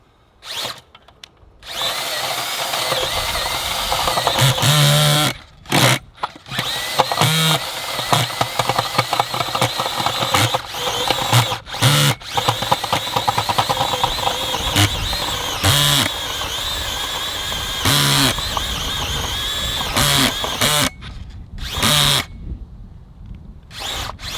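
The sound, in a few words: Makita 36V earth auger drilling into hard clay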